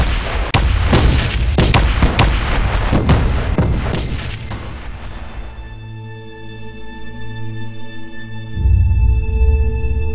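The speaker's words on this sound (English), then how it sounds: "There is a new creation ship is doing her firepower testing nearby." A ship's weapons fire in Space Engineers during firepower testing. Sharp booming shots come in rapid succession, then give way to a droning, pulsing hum with tonal whines and a final loud rumble.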